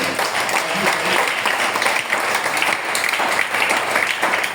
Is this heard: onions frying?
no